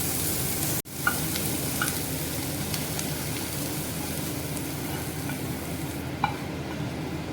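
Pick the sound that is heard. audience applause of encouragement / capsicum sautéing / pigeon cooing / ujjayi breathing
capsicum sautéing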